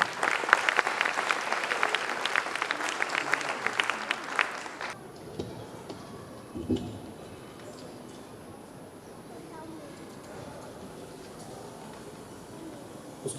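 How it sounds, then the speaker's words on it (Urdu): Church congregation at St Mary's, Gulbarg, gives a full round of applause to welcome visiting priests, loud and dense for about five seconds before breaking off abruptly into a quiet room with faint scattered sounds. "ہم اپنے آئے ہوئے کاہن بھائیوں کو خوش آمدید کہتے ہیں آپ کی بھرپور تالیوں میں"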